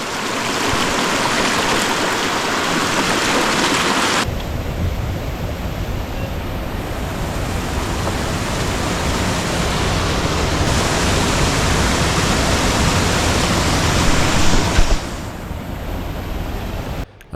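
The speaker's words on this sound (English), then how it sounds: "Still going, we're on a second creek now. This one's a little bit bigger," Creek water rushes and splashes continuously, a loud broadband flow that shifts in intensity over time, with no talking.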